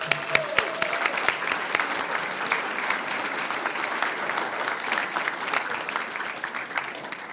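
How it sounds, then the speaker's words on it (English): Audience at a school board meeting breaks into sustained applause, dense clapping from many hands filling the room, steady and fairly loud with little talk. "let's give him one more round of applause."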